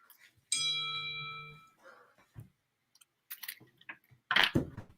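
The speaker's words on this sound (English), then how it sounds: "Oh, that's a text message coming through the bell?" An Apple phone text-message notification chimes once, a clear ringing bell tone that decays over about a second, followed by quiet clicks and brief faint sounds.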